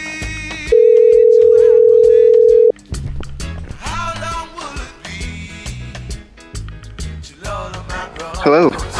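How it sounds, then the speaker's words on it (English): A steady telephone dial tone sounds for about two seconds while a call is placed, followed by busy chatter and music-like sounds. "we could talk to her colleague Thomas Goki, so I'm gonna phone him now"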